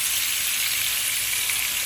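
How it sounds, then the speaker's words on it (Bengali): Coral fish pieces shallow-frying in a pan with spices, giving a steady, close, bright sizzle and crackle throughout with no voices. "এখানে কোরাল মাছগুলো হালকা ভাজি করে নিচ্ছি।"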